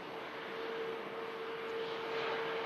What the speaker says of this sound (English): There it is, a beautiful A350 1000 touching down.